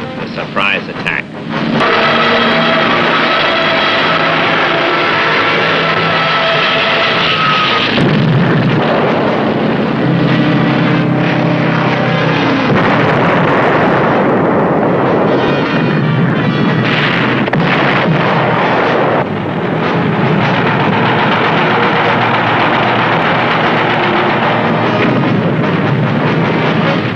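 Explosions and gunfire from the December 7th, 1941 surprise attack on Pearl Harbor, a dense, loud barrage of blasts and bursts that runs almost continuously with music-like tones mixed in.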